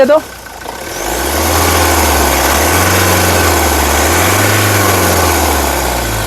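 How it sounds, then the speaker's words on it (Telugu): A 2015 Mahindra Scorpio S10 SUV engine starts, then idles with a low steady hum, revving gently twice in smooth swells, heard up close. "ఇంజన్ నాయిస్ చాలా సైలెంట్గా అయితే ఉంది"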